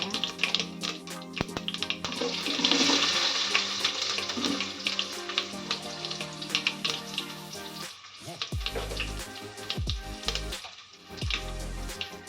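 Onions fry in a pan with a steady, close sizzle. Scraping and stirring clatter breaks in during the final seconds, and no one speaks.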